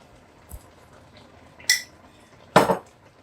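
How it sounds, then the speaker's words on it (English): A spoon stirs oil into a pot of okra soup, giving three brief, sparse metallic clinks and scrapes against the pot with near silence between them. "and I'll give it a stir"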